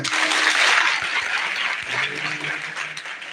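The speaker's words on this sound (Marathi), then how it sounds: "बाळासाठी टाळ्या वाजवाय" An audience at a comedy kirtan claps for a child, a dense burst of applause lasting a few seconds, loud at first and gradually thinning out, with a few voices mixed in.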